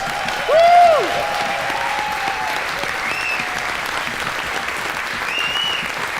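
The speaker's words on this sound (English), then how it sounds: "One more big round of applause for all of those folks, please." Sustained audience applause at a live Northern Roots 2016 folk music show, steady broadband clapping filling the room for several seconds, with a brief louder whoop or voice near the start.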